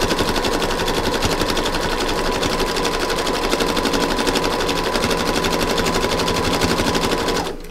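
A sewing machine zigzag-stitches fabric-covered rope in a fast, steady mechanical rattle that runs loud and unbroken close by, then stops abruptly at the end.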